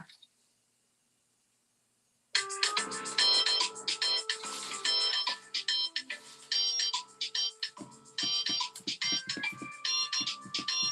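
A phone rings with an incoming call from a sister, a bright electronic ringtone melody starting abruptly after a moment of silence and repeating in loud, choppy bursts close by.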